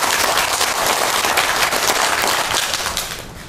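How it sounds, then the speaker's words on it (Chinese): Audience applause welcoming a speaker at a public health lecture, a loud dense burst of clapping that tapers off toward the end. "那我们现在用热烈的掌声来欢迎他来帮我们"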